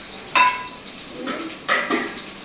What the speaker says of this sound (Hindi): क्या छौंक दिया आज सुबह सुबह।